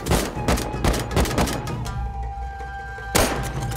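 Repeated loud gunshots in the survival game Rust, a steady rhythm of close, heavy reports with ringing tails, a brief pause, then one more sharp shot.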